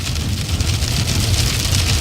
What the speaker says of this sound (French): Il s'est mis à pleuvoir et à grêler, si fort qu'on a dû s'arrêter.